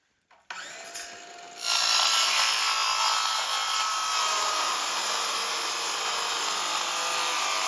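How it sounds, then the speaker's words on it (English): A saw cuts lengthwise along marked lines on PVC pipe for a cabin rain gutter. After a short start, a loud, steady, close cutting whine runs continuously to the end, with no talking. "instead of snapping it with a chalk line, we're just going to go ahead and cut along these lines"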